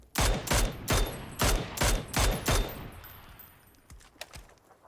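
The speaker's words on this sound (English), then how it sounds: "there's some shots out here" Rapid bursts of gunfire in the video game PUBG: about six sharp, loud shots in quick succession, then a few fainter, more distant shots trailing off over a quiet background.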